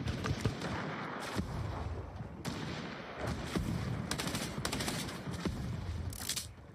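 Rapid bursts of standard assault rifle fire in a video game, loud and close, running in near-continuous volleys from start to finish.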